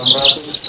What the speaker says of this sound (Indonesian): Tinggal menikmati bunyi pokoknya ya. Dari burung Mozambik ini.